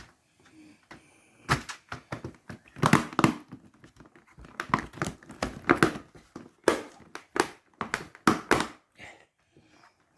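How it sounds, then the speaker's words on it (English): Plastic keyboard keycaps are pressed and clipped back into place by hand, giving a run of irregular sharp clicks and snaps with brief pauses between bursts, close and fairly quiet. "So then just get your keyboard and clip it all back in"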